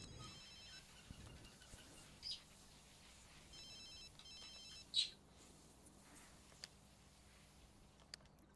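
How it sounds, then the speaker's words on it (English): A phone rings in The Sims 2, giving faint repeated electronic ring bursts in short groups over a quiet game background, with a few soft clicks and ticks between them. "Answer your phone"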